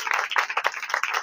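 A church congregation clapping during a Christmas sermon, a dense, steady patter of many hands in a hall, continuous and fairly loud.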